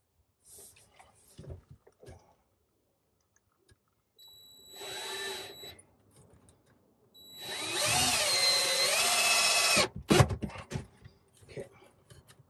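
A power drill drives screws into a mounting bracket for a surge protector on a Grand Design Solitude 382WB-R RV, a short whining burst followed by a longer, louder sustained spin with rising pitch, then handling clatter.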